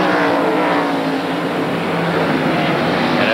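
Stock race car engines roar together at the 1993 Save Mart 300, a loud continuous drone of a pack passing at speed toward turn one, with no gaps.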